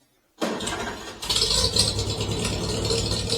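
An old tractor that has sat idle a while cranks and catches after silence, then settles into a loud, close, rattling engine run that steadies into a rough idle.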